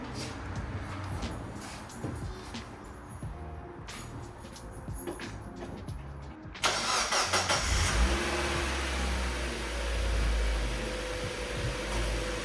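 A Mazda Miata engine with new spark plugs cranks and catches, then settles into a steady idle with a slight rev, loud and close, and nobody speaks.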